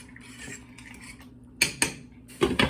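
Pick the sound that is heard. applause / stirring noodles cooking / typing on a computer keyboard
stirring noodles cooking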